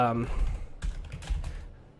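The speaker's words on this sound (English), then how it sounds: "You're going to hear my keyboard typing." Several soft, close keystrokes tap on a computer keyboard right after a brief moment of speech, quiet and irregular.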